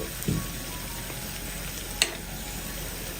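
Kerala bonda (undampori) shallow-frying in a little oil in a pan, giving a steady, soft sizzle throughout with a small clack of a utensil partway through.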